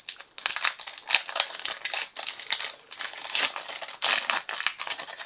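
The foil wrapper of a Pokémon GO booster pack crinkles and rustles in continuous crackly bursts as it is torn open close to the microphone, with no talking.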